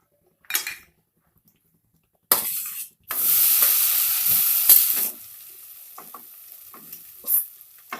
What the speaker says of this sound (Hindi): खसखस को घी में थोड़ा सा भून लेते हैं 2 मिनट तक